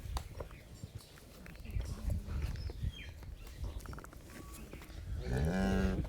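A Nili breed cow with her newborn twin calves on a farm; one close, deep moo rises near the end over soft shuffling and rustling farmyard noise.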